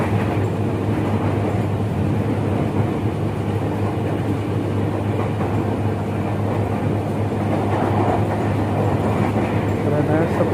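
Steady rumble and rattle inside a KRL commuter train riding near Citayam station in Indonesia, a continuous, fairly loud rolling noise with no breaks.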